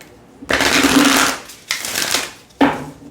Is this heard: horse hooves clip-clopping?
no